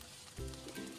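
Garlic and ginger slices hit hot oil alongside chicken wings, a quiet sizzle that jumps in brightness partway through as they land in the pan.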